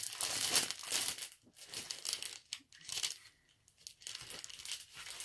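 Crinkly plastic packaging around glitter Rhapsody paper is opened, giving a run of close crackling and tearing bursts separated by brief pauses, with no speech.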